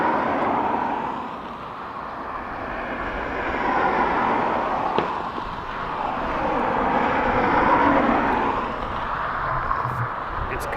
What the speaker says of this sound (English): Let's catch up with our ATR coming in from Guernsey in the Channel Islands.